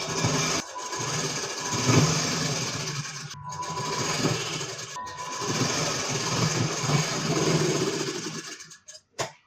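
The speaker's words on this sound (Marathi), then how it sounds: "आता इथे सोयीच्या बाजूने आपल्याला बरोबर शिलाई करून घ्यायचं आहे." A sewing machine runs steadily while stitching a four-tuck blouse, its motor whirring in long continuous runs broken by two short pauses, close and fairly loud with no voices.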